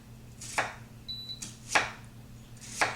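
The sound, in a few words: chopping an onion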